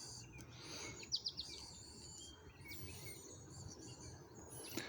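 Birds chirp outdoors in a garden plot, with a quick run of bright tweets early and scattered calls later, moderately close over soft, steady background noise.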